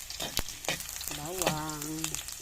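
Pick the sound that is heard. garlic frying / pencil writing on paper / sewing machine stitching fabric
garlic frying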